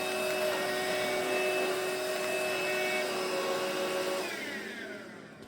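A Roomie Tec cordless vacuum cleaner with a beater bar runs steadily as a loud, close, continuous whine with a strong motor hum, then winds down near the end.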